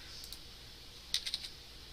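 A few quick keystrokes on a computer keyboard, faint clicks clustered near the middle of a quiet room.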